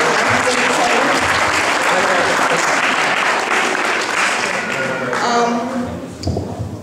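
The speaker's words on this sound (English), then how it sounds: "please give him a round of applause" Audience giving a round of applause after a Hare Krishna Sunday school talk, sustained dense clapping that tapers off near the end as voices begin.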